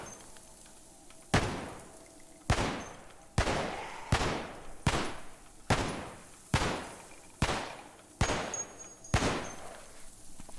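Gunfire aimed at a Kevlar zombie in Cataclysm: Dark Days Ahead: about nine loud, sharp shots fired one at a time at a steady pace, each with a short decaying tail, and no talk.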